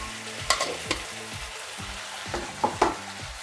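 Mutton roast with red chili powder is stirred in a pan, with a spatula scraping in repeated strokes over a steady sizzling fry. The sound is close and moderately loud, with no talking.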